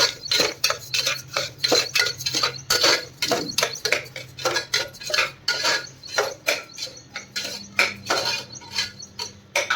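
Metal utensils clatter and scrape against a pan in quick, irregular strokes while food fries in oil, loud and close with no talking.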